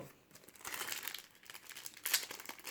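Foil wrapper of a Panini FIFA 365 2019 football sticker pack crinkles and tears open in quick bursts, close and fairly quiet, with no voice.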